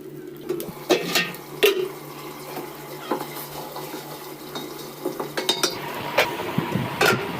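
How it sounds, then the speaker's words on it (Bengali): Fish and olives are sautéed with spices in a pan, with a low sizzle and scattered scraping and clinking strokes from a stirring utensil, close by, with no talking. "মাছ আর জলপাই একসাথে আমি কষিয়ে নেব"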